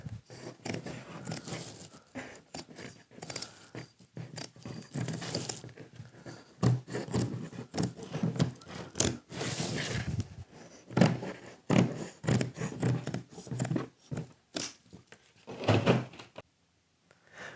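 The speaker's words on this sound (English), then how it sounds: "now what we do next is we just cut it out. A pair of scissors." Scissors cut a mosaic sheet out of its mesh backing with a quick run of close, crisp snips and rustling, coming in bursts with short pauses, then going quiet at the end.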